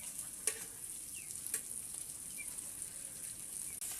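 Fish frying until crisp in a pan over a wood-fired stove, making a quiet, steady high sizzle with a couple of light clicks from the pan or utensil.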